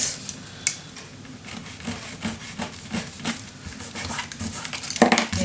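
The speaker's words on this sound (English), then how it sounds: "Burnish it down really good and tight." Paper being burnished down by hand onto a mini album, close repeated rubbing strokes in an irregular rhythm, with a sharper scrape near the end and no talking.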